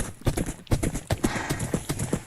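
A horse ridden in Minecraft clip-clops along in a quick, regular rhythm of hoof strikes, close and fairly loud, with no talking over it.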